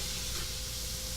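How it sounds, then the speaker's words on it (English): Surf and turf sizzles steadily in a hot pan, a dense close hiss of frying with no talk over it. "Smell that sizzle."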